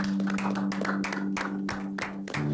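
An audience claps for a rapper on a rap show, with a run of distinct, fairly rhythmic hand claps over a steady low hum in the room.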